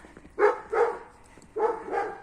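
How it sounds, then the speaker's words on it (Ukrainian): Two pairs of loud, close dog barks, the second pair coming after a short pause, with quiet background between them. "Це щось собака загавкала"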